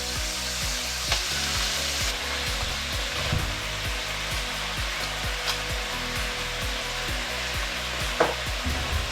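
Pieces of pork sizzling in a pan for Portuguese bifanas, a loud, continuous frying hiss with a few faint clinks and scrapes, no voices.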